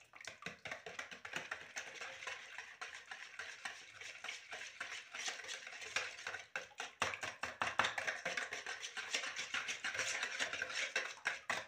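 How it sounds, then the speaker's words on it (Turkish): Walnut baklava mixture stirred briskly in a bowl, a continuous close clatter and scrape of a utensil with rapid rhythmic taps, growing somewhat denser and louder toward the end. "İyice karıştıralım."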